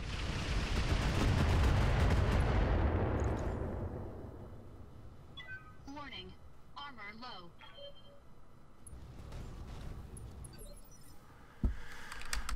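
Gunfire and artillery in the Roguetech video game: a long rumbling boom that swells and fades over a few seconds, then a scatter of bright electronic beeps and blips and one sharp late impact, with someone talking throughout.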